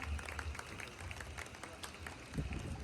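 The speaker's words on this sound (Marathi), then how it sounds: "जर तुम्हाला नृत्य आवडलं असेल तर जोरदार टाळ्या वाजवा त्यांच्यासाठी" An audience at a baby-naming ceremony applauds after a dance, a quiet, scattered patter of clapping mixed with low crowd murmur.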